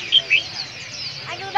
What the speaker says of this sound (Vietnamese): Chim mồi bẫy của nó đấy.